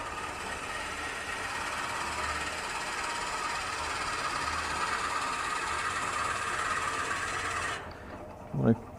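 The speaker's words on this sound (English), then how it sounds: "now I want to drill" Drill bit boring steadily into a wooden Christmas orb on a lathe, a continuous whirring grind that holds for about eight seconds before cutting off abruptly, followed by a brief low thump.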